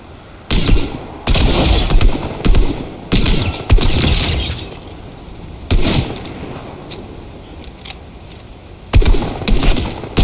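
Rapid bursts of gunfire in Fortnite come in several loud, clustered volleys separated by short pauses, with sharp cracking impacts in the mix.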